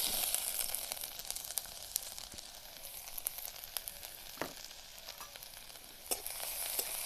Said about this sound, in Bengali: আদাটা হালকা করে ভেজে নেব